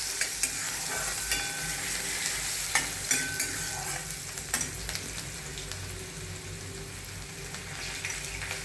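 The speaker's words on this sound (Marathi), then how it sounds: "कांदा छान परतून घ्यायचा।" Finely chopped onion sizzles steadily in a hot pan for Mumbai-style ragda, with a constant frying hiss and occasional soft clicks of a spoon stirring, no voices.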